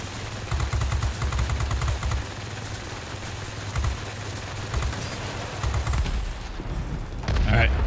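In World of Warplanes, enemy gunfire rattles at the player's plane in repeated bursts of rapid shots over engine drone, with a voice talking now and then.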